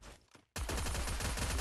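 Rapid gunfire bursts in a competitive Free Fire match erupt loudly after a brief quiet lull, with dense repeated shots running continuously to the end.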